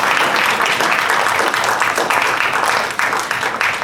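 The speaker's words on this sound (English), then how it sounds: "Applause" A crowd at a Jill Stein presidential campaign speech at Georgia State University claps steadily throughout, a dense, loud wash of applause that holds level and begins to thin slightly near the end.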